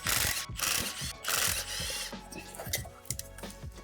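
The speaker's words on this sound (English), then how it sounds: "We're gonna remove the bolt on the end here." Ratchet working on a bolt in the engine bay of an R53 Mini Cooper S, rapid clicking and ratcheting bursts close by with brief pauses between strokes and some metallic clatter.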